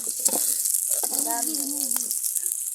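Onions and chilies sizzle in hot oil as pumpkin stir-fry begins, a steady bright hiss running throughout with a voice talking briefly over it.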